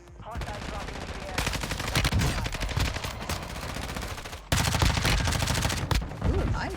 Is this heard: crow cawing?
no